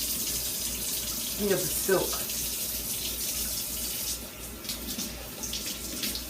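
Running tap water splashes steadily into a sink while fresh corn on the cob is rinsed and its silk rubbed off, a continuous hiss with a few brief spoken words over it.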